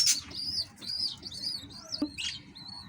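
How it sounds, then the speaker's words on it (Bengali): Small pet birds in a cage give quick, high chirps and tweets in a busy string, close and fairly faint over a low background murmur. "এই হলো আমার কিউট পাখি"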